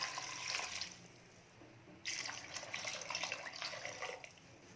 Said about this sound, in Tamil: கீரை வேகத்துக்கு தேவையான அளவுக்கு தண்ணி ஊற்றிக்கலாம்